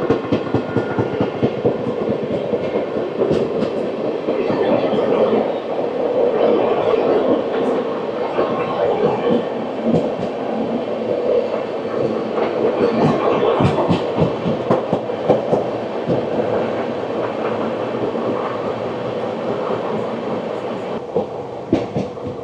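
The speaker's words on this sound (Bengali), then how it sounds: "এখন প্যারালাল চলছে আমাদের ট্রেনের সাথে।" A passenger train running on rails beside a parallel train on the Kolkata to Prayagraj route, heard as a steady loud rumble with continuous rhythmic clatter of wheels over rail joints, close and sustained throughout.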